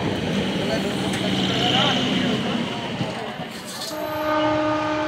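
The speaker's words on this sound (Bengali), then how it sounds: "তো ট্রেন চলে এসছে," A train pulls into a crowded station platform, its rumble and rail noise steady and near throughout, with a horn-like tone sounding toward the end and people talking over it.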